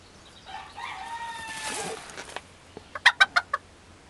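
A rooster gives a drawn-out crow at moderate distance, followed by a short run of sharp clucks or squawks in quick succession, with no voices.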